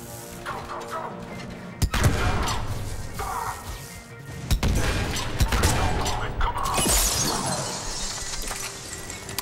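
Loud, sharp rifle shots from the Saber in the video game Mass Effect 3, several cracking blasts spaced a few seconds apart over a busy din of combat noise.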